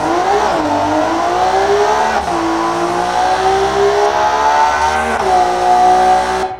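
A naturally aspirated sports car engine from a 2020 racing video game, revving toward a 9,500 rpm limit, holds a loud, steady howl that climbs between brief dips at each gear shift, running continuously with no voices.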